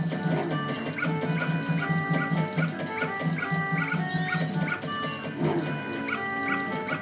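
A dog in Zelda: Majora's Mask, in the Southern Swamp area of the N64 game, yips and whimpers repeatedly in short, high, fairly close bursts over a busy layer of game music.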